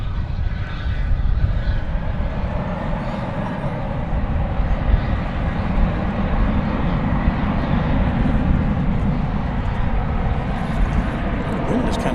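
An Airbus A321 airliner arriving from Las Vegas at DFW Airport at night gives a steady, loud broadband engine roar that holds level throughout, with wind noise mixed in.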